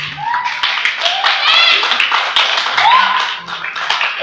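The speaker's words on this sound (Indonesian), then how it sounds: "tepuk tangan dulu dong" Clapping from a small crowd at an acoustic music performance runs throughout, mixed with cheering voices and whistle-like calls.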